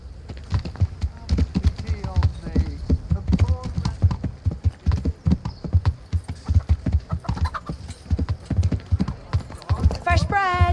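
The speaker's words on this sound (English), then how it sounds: "Learn how to ride a horse," Horse hooves clip-clop steadily in Kingdom Come: Deliverance, a rapid, even rhythm of close, clear footfalls continuing throughout, with game voices talking over them and a whinny near the end.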